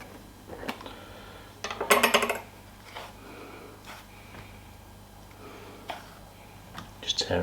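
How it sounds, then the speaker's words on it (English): Oyster mushrooms being torn into chunks by hand, short rough ripping bursts spaced irregularly, one louder crackly tear, close and fairly quiet under a steady low background hum. "All I'm going to do is actually just tear these, because they tear really well once you've chopped the root off"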